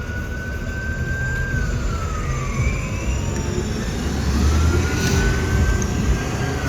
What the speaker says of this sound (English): they come with some sirens next